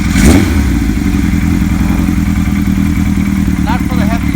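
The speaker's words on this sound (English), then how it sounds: "I'm gonna fire it up and ride it and go through the gears" Engine of a 1975 Kawasaki Z1 900 motorcycle in a 1977 Rickman chassis starts with a clatter, then runs loud and steady with an even rumbling beat near the microphone; a voice briefly cuts in near the end.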